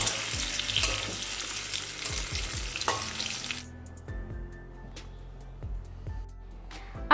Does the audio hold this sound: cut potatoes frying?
yes